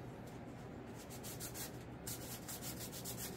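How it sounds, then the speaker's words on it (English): Sandpaper block scuffing the painted surface of a 50mm BAE Hawk RC model jet, a faint rapid back-and-forth rubbing rasp in quick repeated strokes, with no talk. "take a little sandpaper block, which I love these blocks, just go in there"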